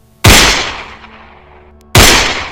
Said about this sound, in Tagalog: Dalawang putok.